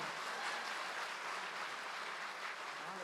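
Steady audience applause at a Hindi-Urdu poetry recital, a dense, even wash of many hands clapping, moderately distant and unbroken for a few seconds.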